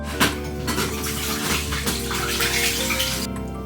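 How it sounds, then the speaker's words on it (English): Tap water runs and splashes continuously over rice being rinsed in a kitchen, a close, steady rushing stream with faint clinks and stirring, which eases off near the end. "And then we just rinse it until the water runs clear."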